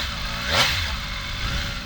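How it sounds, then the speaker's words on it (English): Engine and exhaust of a 2024 MV Agusta Enduro Veloce motorcycle with a standard exhaust, heard on the move as a steady mid-pitched drone with a brief swell of revs and induction noise, no talk. "You get a mixture of induction, a mixture of exhaust noise."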